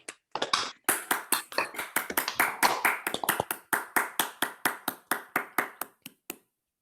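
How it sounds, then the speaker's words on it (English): Scattered clapping from an online audience of a few unmuted participants for conference panelists, uneven sharp claps growing into a steady run and then stopping. "It's nice to just have a bit of the sound of applause every now and again."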